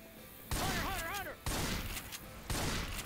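Fireworks bursting during a Left 4 Dead 2 carnival-level game session: three loud, noisy blasts roughly a second apart, one carrying a wavering, whistling tone, with game noise between them.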